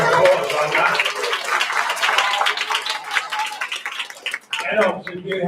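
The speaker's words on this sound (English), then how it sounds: "let's give them a round of applause" An audience at a children's literature quiz world final applauds the finalists with bright, scattered clapping, while voices and a brief chuckle run through it and the clapping thins near the end.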